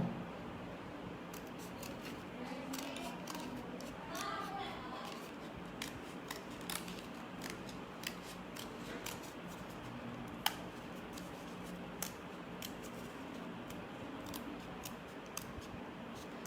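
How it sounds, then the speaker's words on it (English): Scissors snipping paper while making a friendship day card, a run of light, crisp cuts repeating at an uneven pace, close and fairly quiet against a faint room hiss. "Now now you have to cut, you have to make these shapes little bit small."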